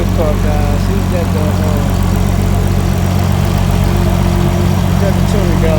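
A drift car's engine idles loud and close at a Cars and Coffee meet in Wheeling, Illinois, a steady low rumble with constant vibration throughout, under faint background activity.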